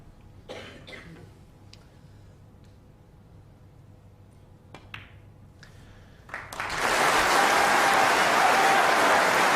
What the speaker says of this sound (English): So tremendous applause there